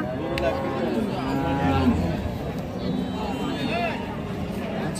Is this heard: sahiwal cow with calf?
yes